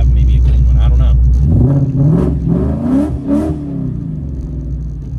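The exhaust of a 1994–2004 Ford Mustang, heard up close and loud: a deep, burbling idle that breaks into a few quick throttle blips and rumbling revs.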